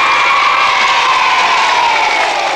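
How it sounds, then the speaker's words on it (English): Loud, dense applause from a large audience at a 1979 television show with a primary school, steady and sustained, with cheering mixed into the continuous roar of clapping. "Big burst of applause for Miss Baguley!"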